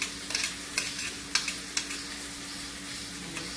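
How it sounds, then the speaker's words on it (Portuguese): Onions tossed into a hot pan for chicken lasagna filling, a soft continuous sizzle broken by several sharp spatula scrapes and taps, close and without talk. "E vou colocar metade das cebolas."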